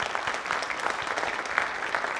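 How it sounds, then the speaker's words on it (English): Sustained applause from a graduation audience at a high school senior honors program, a dense, steady patter of many hands clapping together across the whole moment with no voices over it. "So another round of applause for the graduates"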